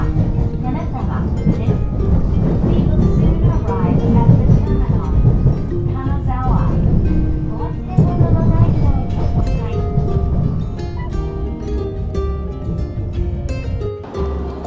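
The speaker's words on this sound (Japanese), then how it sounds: "電車に揺られること40分くらい。" A steady low rumble of a train rolling along rails on the old Hokuriku line toward Kanazawa, continuous and fairly loud throughout, easing off slightly toward the end.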